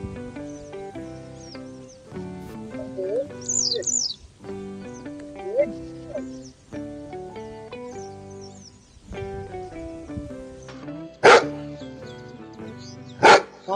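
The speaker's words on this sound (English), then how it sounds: "The dog barked." Two sharp dog barks ring out near the end, over steady background music.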